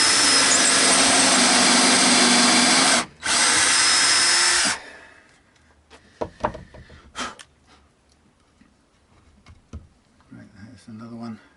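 A power drill bores 5mm string-through holes into a guitar body: a loud, steady high whine for several seconds with one short break, then stopping, followed by quiet handling clicks and knocks.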